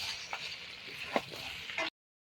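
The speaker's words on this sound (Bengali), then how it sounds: "আলু দিয়ে দেবো, আলু দিয়ে কষিয়ে নেব" Mutton with chopped tomato and potato is sautéed in a pan, giving a soft, constant sizzle broken by a few stirring scrapes and clinks before the sound cuts off abruptly.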